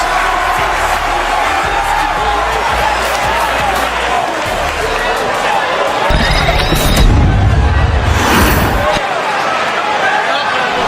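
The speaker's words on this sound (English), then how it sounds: "The crowd knows Jevon Evans" A wrestling arena crowd roars and cheers through a wrestler's entrance at a TNA Impact event, a loud, sustained wash of noise with heavy low thumps and a swell near the end, under commentary.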